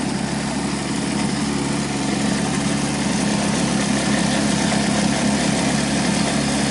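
A small air-cooled gas outboard motor on a V-hull river boat runs continuously at a steady, loud buzzing drone, close by and unbroken for several seconds.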